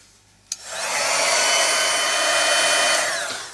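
A hair dryer blows steadily on painted stained glass, switching on with a click and then holding a loud, even whoosh close by for about three seconds, with no voices.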